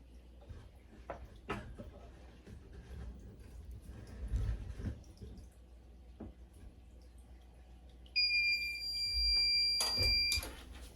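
A heat press timer alarm sounds a steady electronic tone for about two seconds near the end. It follows quiet clatter and handling noises from applying glitter vinyl to a make-up bag.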